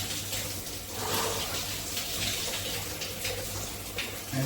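Cold water pours steadily over a person's body and head in a shower, a continuous broadband splash and hiss that stays close and even throughout, with no talking.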